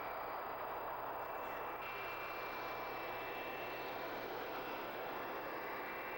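A Su-28 jet aircraft's engines roar steadily nearby after landing, a constant loud whine and rumble with no pauses.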